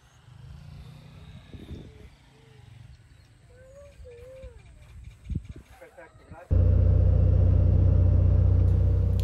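A small airplane powers up on a rough jungle landing strip in Costa Rica, its engine roar suddenly swelling loud and steady after a stretch of quieter rumbling and scattered speech.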